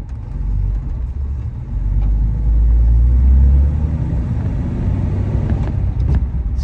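A Chrysler car with Fluid Drive transmission pulls away in first gear, its engine rumbling low and rising gently in a steady drone, heard close and without talk.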